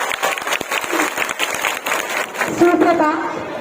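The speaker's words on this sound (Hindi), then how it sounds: "अगर प्रस्तुति पसंद आई हो तो जरा खुलकर तालियां बजाइए।" An audience claps at a school Independence Day celebration, a dense, fairly even patter of applause that carries through the clip, with voices rising briefly over it near the end.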